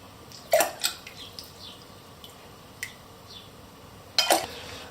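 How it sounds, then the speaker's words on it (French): A few sharp metallic clanks and knocks ring out as a saucepan holding a stone is lifted and set down, with quieter clinks between them. "j'enlève la casserole avec la pierre dedans"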